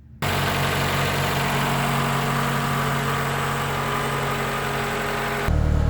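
A 2012 Toyota RAV4 engine idles steadily with a constant mechanical hum and vibration, heard close up with no talking, before the tone shifts lower near the end.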